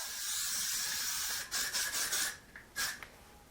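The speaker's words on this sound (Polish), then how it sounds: "Psikam całość." Hair spray hisses from an aerosol can over hair styled into voluminous 90s waves: one long steady spray, then several short close bursts.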